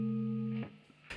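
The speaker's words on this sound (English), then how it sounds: "ring modulator like sound, just very bell like sound like this." A guitar string divided in two by an alligator clip gives a bell-like, ring-modulator tone: one sustained metallic ring that fades after about half a second, then a brief soft pluck at the end.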